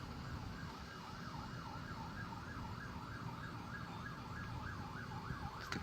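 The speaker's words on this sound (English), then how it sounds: "Yep, that was an ambulance." An ambulance siren wails in a steady, rapid up-and-down cycle, passing at moderate distance outdoors over constant traffic rumble and background noise, with no voices.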